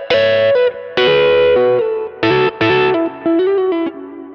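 An electric guitar with Lambertones Lamber'tron pickups plays a loud, snappy phrase of sustained notes and chords through reverb and grit, each attack crisp with a glassy, present top end.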